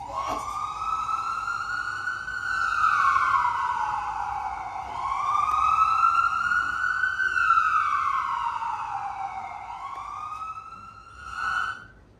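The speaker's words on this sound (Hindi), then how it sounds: "Call the ambulance, doctor. Call the ambulance." A wailing ambulance siren sound effect in a stage production of Court Martial rises and falls in long sweeping cycles, loud and continuous, then fades out at the end.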